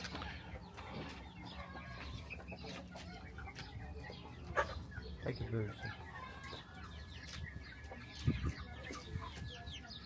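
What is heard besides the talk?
chickens and roosters clucking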